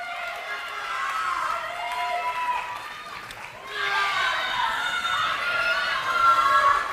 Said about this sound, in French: pouvez applaudir bien fort les 14 candidates réunies sur scène